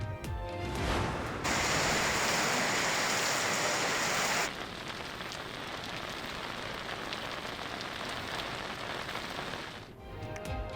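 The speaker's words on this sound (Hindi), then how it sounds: "इस्लामाबाद और रावलपिंडी में बारिश।" Steady rain falls in Islamabad and Rawalpindi, a dense hiss of drops on surfaces. It is loud at first, then settles into a softer, even patter that continues alone to the end.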